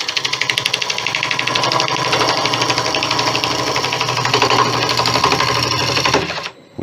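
A bowl gouge cuts 5000-year-old Irish bog oak spinning on a wood lathe, making a loud, steady, rapid chattering buzz that holds evenly for several seconds before stopping abruptly.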